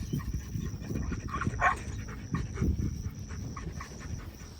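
A duck-hunting retriever pants close to the microphone in a steady, rapid rhythm, with occasional whimpers and rustling movement around it.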